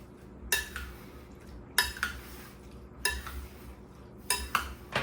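A spoon stirs Spanish salsa with lemon and lime juice in a bowl, four evenly spaced scraping strokes clinking against the bowl, close and moderately loud over a quiet background.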